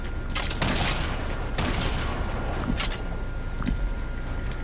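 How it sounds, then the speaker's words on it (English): Rapid bursts of gunfire in a Fortnite Battle Royale match, loud and close, with several volleys of shots cracking over constant broadband game noise. "Where am I getting shot at?"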